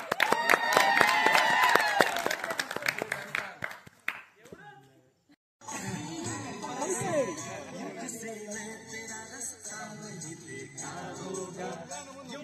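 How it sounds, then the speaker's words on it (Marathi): A crowd at a campfire during an NSS camp's cultural evening claps in a dense burst over singing, then the noise fades, and a noisier stretch of crowd chatter and voices follows. "टाळ्या वाजवा"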